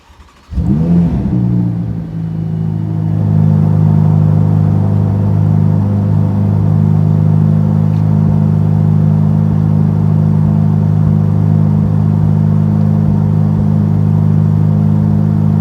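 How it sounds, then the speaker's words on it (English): A 2021 Ferrari F8 Spider fires up from cold, a sharp rising bark at startup settling into a loud, steady, deep exhaust rumble held close by for the rest of the clip, with no talking. "You want to go back there and listen to the exhaust sound?"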